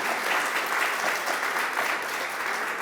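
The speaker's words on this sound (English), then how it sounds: "Let's give them a round of applause." Audience applause at a business networking event, steady dense clapping from a crowd, fairly loud and continuous without talk.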